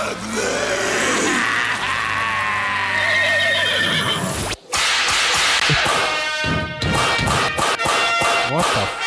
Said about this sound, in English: He's just whipping the shit out of that horse.